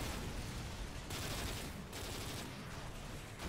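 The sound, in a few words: gunfire in the video game Modern Warfare 3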